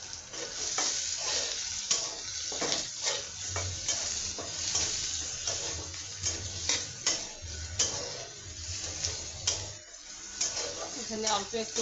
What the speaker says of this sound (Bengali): এই যে পেঁয়াজ আর এই রসুনটুকু ভেজে নিব কাঁঠাল দানার জন্য।